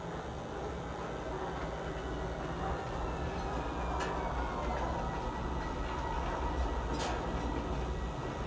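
A train rolls through Lorville on Hurston in the video game Star Citizen, a continuous loud rumbling drone with a few sharp squeals and clanks over it, steady throughout.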